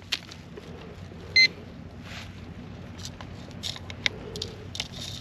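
A handheld metal detector sweeping a Puget Sound shoreline gives a short, clear electronic beep partway through, with faint scattered ticks and light outdoor background noise around it.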